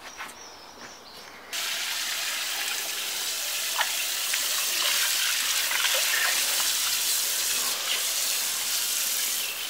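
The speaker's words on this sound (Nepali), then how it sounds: "यो कोदो चाहिँ एकदम पानी सफा हुने गरी धुनु पर्छ कोदो पनि यस्तो सफा हुने गरी धुनुपर्छ" Water gushes and hisses steadily from a tap while finger millet is washed for Tongba, a continuous close pour that rises in strength after a brief quieter start, with no voices.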